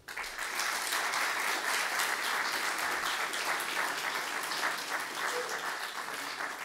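Applause from a party conference audience for political candidates, rising quickly after a short pause and holding as dense, sustained clapping to the end.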